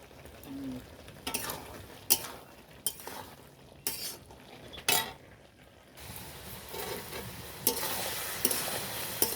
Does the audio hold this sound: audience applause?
no